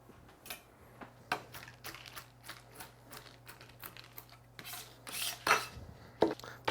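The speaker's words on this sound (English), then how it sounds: "just get your big chef knife, hold down the tip, and rock it through" A big chef knife rocks through a handful of pecans on a cutting board, giving a quick series of close, sharp clicking chops in an otherwise quiet room.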